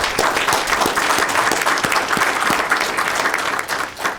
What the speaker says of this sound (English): Another round of applause for Emiliana's Hope.